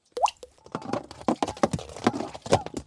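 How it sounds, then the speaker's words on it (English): Water sloshing and a plastic Dreamcatcher water bottle knocking as it rolls in the back of a 2023 Skoda Karoq SUV, a busy run of irregular close plops and clunks lasting about three seconds. "This is your stupid Dreamcatcher water bottle. Listen to the sound it makes."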